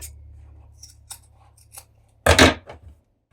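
Scissors snip through the corner of a jeans seam allowance during sewing: one loud, crisp cutting burst with a brief tail, after a few faint handling taps over a low hum.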